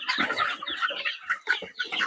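Young poultry chicks crowd around chopped tomato pieces, a busy flurry of close clucking and peeping calls with short bursts of scratching and pecking, continuous and lively throughout.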